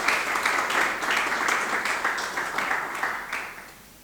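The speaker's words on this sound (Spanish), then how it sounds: "Un aplauso para la ingeniera Carolina" An audience applauds a speaker, an engineer, at a talk about water: a dense burst of clapping that holds steady for a few seconds, then fades away.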